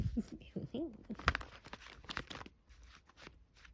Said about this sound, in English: Let's see if I can do a little shuffle.